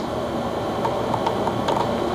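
A Canon 16-35mm L series lens gives a few faint, quick mechanical clicks over a steady background hum, spaced unevenly across a couple of seconds.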